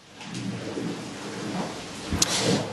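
Heavy rain pours steadily during flooding in Sydney on the New South Wales coast, and a low thunder rumble swells near the end, loud and continuous with no voices.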